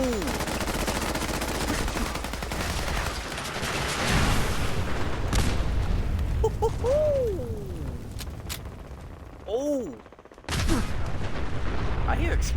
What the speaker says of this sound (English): I hear explosions happening